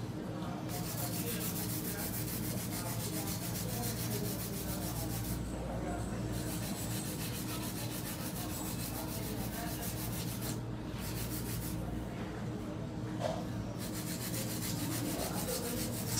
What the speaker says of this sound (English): A little bit easier for me to do the length of the nails with a hand filer